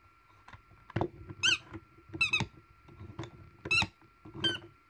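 An antique Christmas trinket marked Hong Kong gives about six sharp, high squeaks in an uneven rhythm, close and clear against a quiet background.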